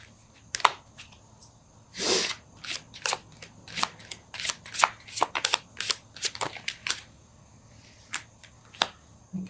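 Tarot cards being shuffled in irregular bursts of crisp riffling and slapping, some quick and clustered, others isolated, close and fairly quiet with no talking.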